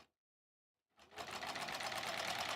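Sewing machine stitching quilt-as-you-go rows after sitting unused for a while, starting from silence and then running at a steady fast rhythmic clatter, close and loud.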